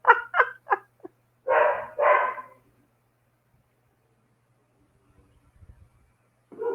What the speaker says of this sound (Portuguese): as cachorras esperaram eu terminar a meditação para começar a latir